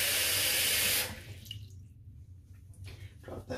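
Water runs loudly from a tap to soak a shaving brush, a full rushing stream for about a second before it cuts back to softer splashing and trickling.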